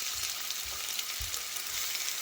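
Onions, green chillies and ginger-garlic paste fry in oil in a pan, giving a steady close sizzle broken by a few soft stirring bumps.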